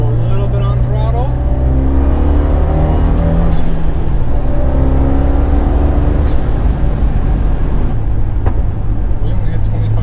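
A Fiat 124 Spider with a camshaft issue drives under throttle, its engine droning loud and steady with rising and falling revs throughout.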